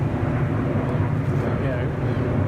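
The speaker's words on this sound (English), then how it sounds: "If it weren't for the planes, it would be quite tranquil." Airplanes pass high overhead in the open countryside, a continuous distant broadband roar holding steady throughout, with some wind noise and no talking.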